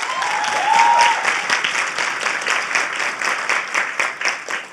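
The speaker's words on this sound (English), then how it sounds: "give yourselves a round of applause for being here" An audience at a talk on financial fitness claps together in sustained applause, dense and fairly loud, fading slightly toward the end with no speech over it.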